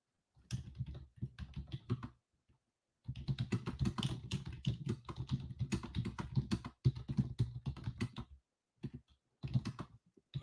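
Bursts of clattering computer-keyboard typing during a morning futures day-trading session, close and fairly quiet, coming in uneven runs with short pauses in between and no talk.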